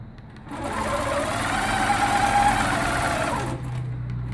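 A longarm quilting machine runs steadily as it stitches a quilt, giving a close, loud mechanical whir that lasts about three seconds before it slows and stops.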